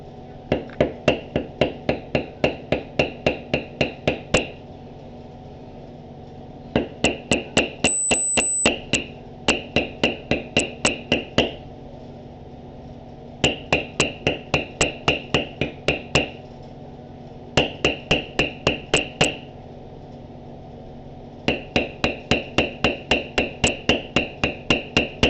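A metal beveler tool is struck in quick rhythmic runs of mallet taps while tooling a lattice pattern into a leather backpack panel, with bursts of about ten crisp strikes separated by short pauses.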